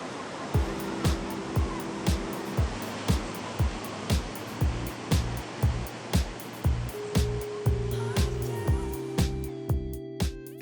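Ocean surf rolls onto the big beach at Biarritz, a steady wash of breaking waves heard under a regular thumping rhythm and sustained musical tones that dominate the mix.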